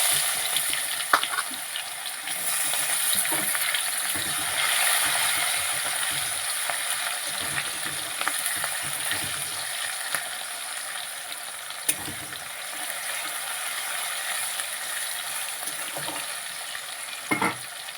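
Chopped onion sizzles steadily in hot oil, a continuous loud frying hiss with occasional stirring scrapes and clinks throughout.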